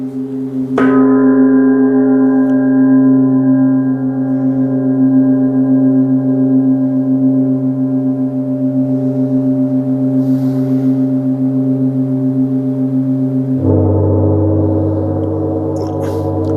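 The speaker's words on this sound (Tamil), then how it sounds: "இது சவுண்ட் ஹீலிங் காங்" A sound healing gong struck once, ringing with a rich sustained humming tone that lingers, then a second strike shifts the resonance lower; no voices.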